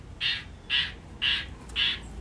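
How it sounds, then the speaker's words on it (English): A rooster crows four times in quick succession, each call a short, harsh, evenly spaced burst, fairly close and clear over quiet outdoor background. "He's crowing."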